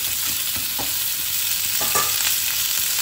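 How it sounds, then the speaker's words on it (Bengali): Potato and pumpkin pieces fry in oil with onions in a pan, a loud steady sizzle close up with a few soft stirring scrapes and no voices. "আলু আর কুমড়ো এটা একটুখানি ভাজা ভাজা হোক"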